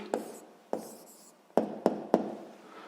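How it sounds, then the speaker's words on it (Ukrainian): Pen strokes on paper while an answer is written by hand for a sixth-grade maths exercise: five short, crisp scratchy taps spread unevenly across a quiet room, close and fairly soft, with no talking. "Гаразд, записуємо відповідь."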